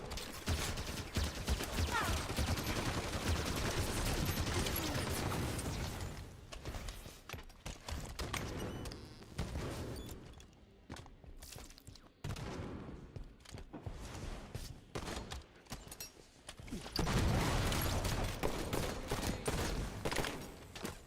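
Rapid bursts of gunfire in the Halo 5 video game, loud crackling volleys that thin out in the middle before swelling again, with clattering weapon mechanics between shots.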